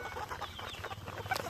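Gamefowl chickens cluck steadily in a short burst of close, busy farmyard sound, several birds overlapping with no talking.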